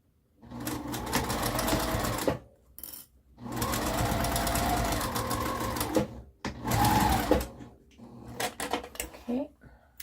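A sewing machine runs a long basting stitch on a cube pincushion in three or four steady whirring bursts separated by brief silences, ending in softer, shorter stitches.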